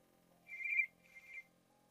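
Telephone ringing in two short electronic ring bursts with a brief gap between, fairly faint against a quiet background and no voices.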